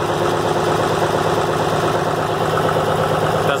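A tractor's gasoline engine idles steadily and loudly just after being started with the choke, a close, even, rumbling drone with no talk over it.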